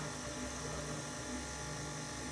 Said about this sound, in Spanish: Solamente vamos a batir hasta integrar.